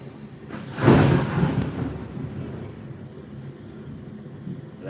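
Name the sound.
thunder rumbling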